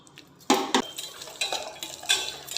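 Cashews and raisins fry in ghee in a bowl, giving a quiet sizzle under clinks and scrapes of a spoon against the vessel, with a few sharper knocks near the start.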